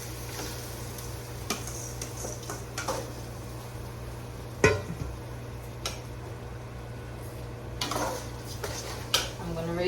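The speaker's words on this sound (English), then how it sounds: "I'm going to go in now with the rice" Rice goes into a hot pan with onions, ginger and parsley, giving a low steady sizzle broken by occasional sharp clinks and scrapes of a utensil against the pan.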